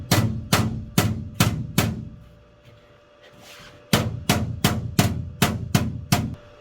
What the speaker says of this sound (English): I can also use a ball peen hammer.